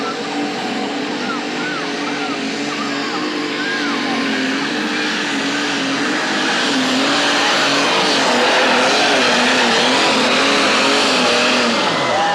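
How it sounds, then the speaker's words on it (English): A super stock pulling tractor engine screams at high revs, steady and sustained with a slowly rising pitch, while a voice talks over it. "very few super stocks you will hear turn the kind of RPM this little tractor turns."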